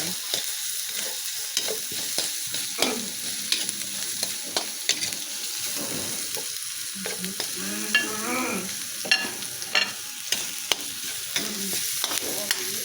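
Pork liver and garlic sautéing in a pan for pork igado, a steady sizzle broken by repeated scraping and stirring strokes, close and fairly quiet, with no talking.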